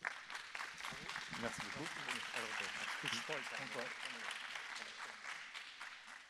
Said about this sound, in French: vous allez recevoir maintenant votre InnovSpace, on peut l'applaudir